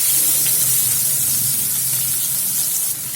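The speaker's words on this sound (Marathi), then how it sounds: "आपला ठेचलेला लसूण टाकून देऊया लसूण पण छान परतून घेऊया" Crushed garlic sautéing in a pan for a mixed vegetable dish, giving a steady, loud sizzle and spray of frying that holds constant throughout with no talking.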